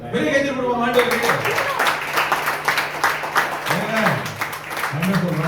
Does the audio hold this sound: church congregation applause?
yes